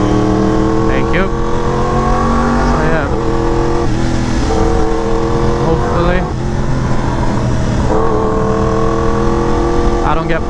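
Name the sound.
loud motorcycle exhaust while riding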